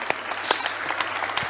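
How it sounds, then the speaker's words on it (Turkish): Audience applause for schoolchildren at a book-days talk in Aksaray, a brief burst of dense clapping with a few sharper claps standing out, moderately loud and steady. "Bu alkış çocuklara."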